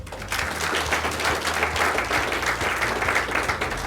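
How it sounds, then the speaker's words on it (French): An audience at a corporate awards ceremony breaks into applause, a dense, fairly loud wash of clapping that starts quickly and holds steady for a few seconds, with a low hum underneath. "que je vous demande d'applaudir"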